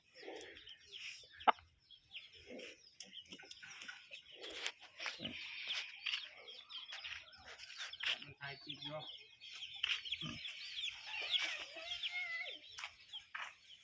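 Chickens cluck and call around a farm where pygmy pigs are kept, short bursts scattered over nearly fourteen seconds amid other animal noises and some faint human voices.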